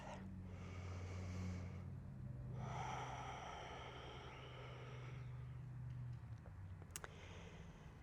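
Deep breathing during a yoga session for scoliosis, a slow audible inhale followed by a long, breathy exhale, close and soft against a quiet background.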